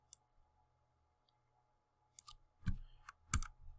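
Typing a number on a computer keyboard: a few quiet, isolated key clicks sound after a near-silent stretch, ending in two slightly heavier taps.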